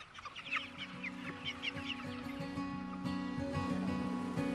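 Free-range chickens cluck in a farm shed, with repeated close clucks and soft calls over a steady background hum and no talking.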